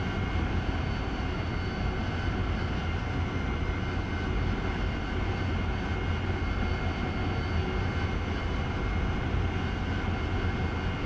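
A heavy military jet taxis on an airfield in the DCS World flight simulator, its engine giving a steady, loud, unbroken roar with a constant whine held throughout and no talk.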